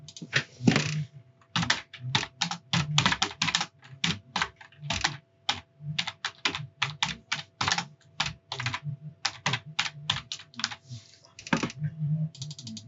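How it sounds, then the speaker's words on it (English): Typing on a computer keyboard up close, bursts of crisp key clicks in quick irregular runs separated by short pauses, steady and alone throughout. "So I'm just going to type that out."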